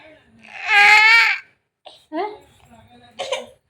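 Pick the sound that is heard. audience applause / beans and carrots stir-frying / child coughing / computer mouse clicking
child coughing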